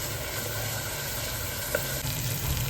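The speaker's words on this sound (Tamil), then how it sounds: "வெங்காயம் விழுது நல்லா வதங்கிட்டு இருக்கும் போதே நம்ம வந்து இஞ்சி பூண்டு விழுதையும் சேர்த்துடலாம்." Onion paste with ginger-garlic paste sautéing in a pan for chole, a dense, even sizzle held close and steady, with a brief stir knock near the end.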